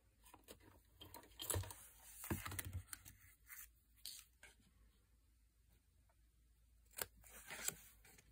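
Scissors snipping paper while crafting a vintage Christmas folio, a few faint, sharp cuts and rustles scattered among quiet handling noises, no talking.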